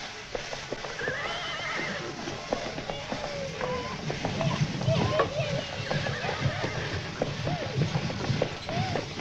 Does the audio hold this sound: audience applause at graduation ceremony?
no